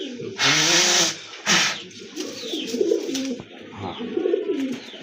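Lotan pigeons give low, rolling coos at close range, repeated in soft wavering phrases, after two short bursts of breathy hiss at the start.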